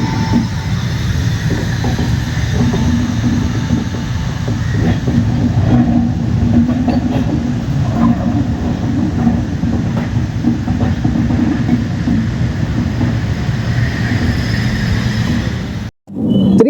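Cheran Superfast 12673 train rolling into Erode Junction, a loud steady rumble of wheels and carriages heard from on board with faint rhythmic clatter, continuous throughout before a brief dropout near the end.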